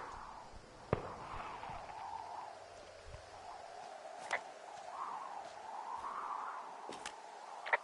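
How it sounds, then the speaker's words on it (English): Fireworks pop and crackle in the distance within the video game Firewatch, a few sharp bangs scattered over a steady outdoor ambience, with no voices. "Those fireworks are going off to the west of you."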